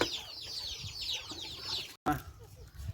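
Chickens cluck and chirp repeatedly near a rural cooking spot, with a steady run of bird calls and a brief break in the middle.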